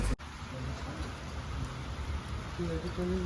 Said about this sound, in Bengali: বৃষ্টি নেমে গেছে প্রচণ্ড